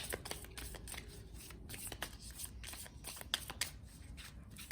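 Sibylle oracle cards being shuffled by hand for a reading, a close, steady run of papery riffles and soft slaps over a quiet room.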